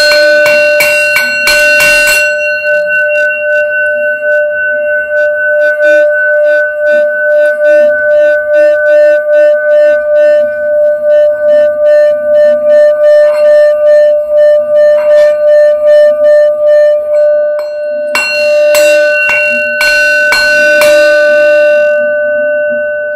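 A bell rung during a tarot reading, with a clear sustained ring of steady tones throughout and quick bursts of struck strikes at the start and again near the end. No one speaks.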